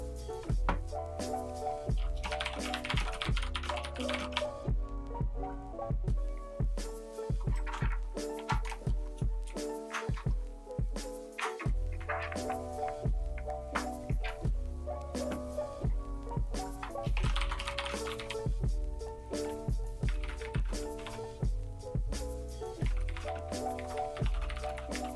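Typing on an Epomaker mechanical keyboard with Tokyo-themed koi fish keycaps gives a steady run of keystroke clicks over music throughout, with a brief lull partway through.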